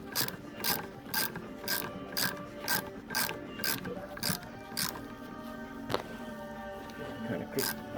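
A Powerball gyro ball ratchets in a quick regular series of sharp clicks as its cylinder is threaded, about a dozen close clicking bursts at an even pace, with a faint voice in the background.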